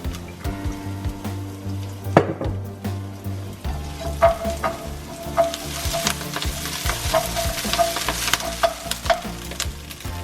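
Garlic and mushrooms fry in oil for noodles, a loud continuous sizzle with scraping stirs and clinks of a utensil against the pan throughout.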